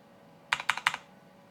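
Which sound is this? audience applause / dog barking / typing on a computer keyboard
typing on a computer keyboard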